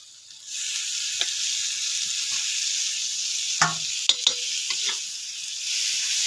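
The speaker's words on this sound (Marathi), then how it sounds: "ह्याच्यावर आता बारीक चिरलेला टोमॅटो टाकतो" Finely chopped tomato hitting an iron griddle pan over a wood-fired stove, a sudden steady hiss of sizzling that runs on with a few soft scrapes and clinks of stirring, close and without talk.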